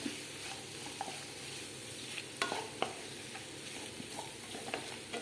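Chicken kondattam being stirred in a pan with fried curry leaves and dried red chillies, a faint sizzle broken by soft scraping and a few light clicks of the spoon.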